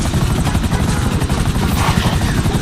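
A toy helicopter whirs in a steady, loud, rapidly pulsing drone of spinning rotor blades, close and unbroken for the whole stretch, with no talking.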